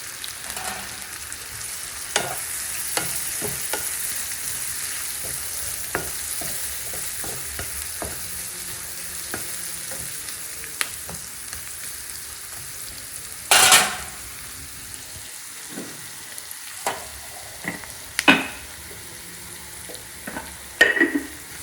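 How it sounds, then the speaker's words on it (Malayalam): Chopped garlic sautéing in coconut oil for a fried chicken roast, a continuous close sizzle punctuated by repeated spatula scrapes and knocks against the pan, with a few louder clattering stirs. "നമ്മൾ കട്ട് ചെയ്ത് വെച്ച വെല്ലുള്ളി നമുക്ക് ഇതിലേക്ക് ഇട്ട് വഴറ്റിയെടുക്കാം"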